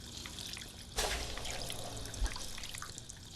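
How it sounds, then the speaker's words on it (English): A character in Fallout 4 drinks water with faint sipping and trickling liquid sounds, starting with a brief splash and followed by soft drips and pouring, heard close and quiet. "Alright, time for a little drink of water. Sorry for the sippy noises"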